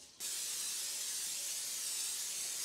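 A steady aerosol spray hisses continuously and fairly close after a brief quiet start, with no voices.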